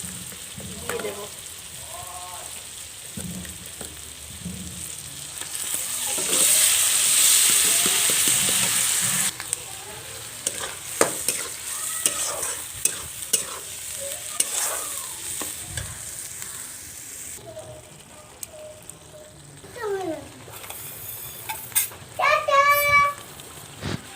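Spinach being stirred and fried with chili powder and turmeric in a pan, a steady sizzle with scraping spoon strokes, one loud hissing burst early on, and brief high voices partway through.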